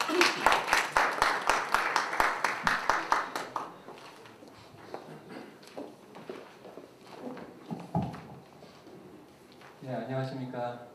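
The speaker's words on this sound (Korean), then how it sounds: "박수로 맞아주세요." An audience at a Chonnam National University graduate school symposium claps briefly in a loud, steady rhythm for about three seconds to welcome a professor, then talk follows.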